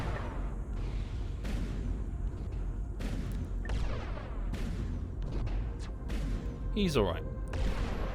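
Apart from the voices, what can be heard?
flak artillery array firing in X3: Albion Prelude video game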